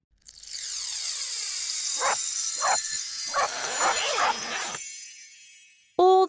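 A small dog gives a few quick, high yips and barks in a row, close and clear, over a steady background tone with no talking.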